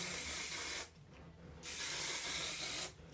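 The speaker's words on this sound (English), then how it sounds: "or hairspray every section" Two bursts of hairspray from a can misted onto crimped hair, each a close, loud hiss lasting about a second or more, separated by a short quiet gap.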